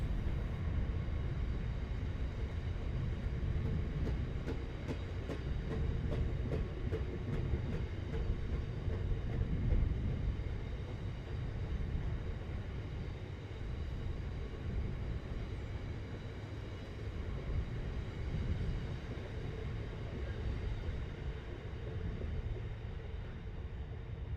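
GBRF Class 66 diesel locomotive 66793 hauling a grain freight train on a Kent branch line, a steady loud rumbling drone with continuous wagon noise and rhythmic clatter throughout, no voices.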